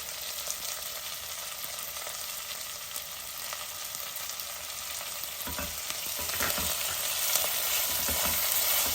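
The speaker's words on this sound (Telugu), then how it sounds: "వేగిన అల్లం వెల్లుల్లిపాయ పేస్ట్ వేసేస్తుంది ఉల్లిపాయలతో పాటు వేగుతుంది" Ginger garlic paste frying together with onions in a pan for tomato rasam, a continuous soft hissing sizzle that grows slightly louder and busier toward the end, with no voices.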